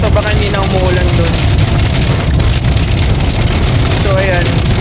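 Heavy rain drumming on a car while driving down the road, a dense steady roar of downpour and road noise filling the cabin throughout, with a voice speaking over it now and then.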